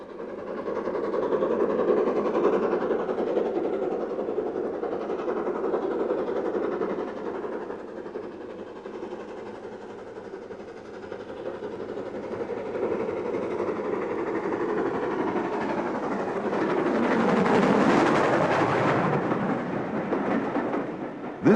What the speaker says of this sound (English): a third engine, 76031, was seen in the summer of 1991 on the East Lancashire Railway.